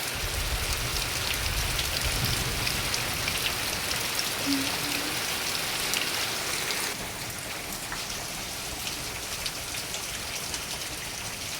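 Steady rain falling, a dense even patter of drops with a continuous hiss that eases slightly partway through; no voices.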